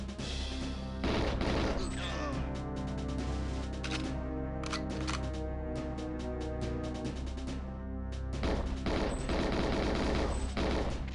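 Gunfire in the 1997 video game GoldenEye 007 comes as loud, rapid bursts of automatic shots that crackle almost continuously, break off briefly, then resume, with a low electronic music bed underneath.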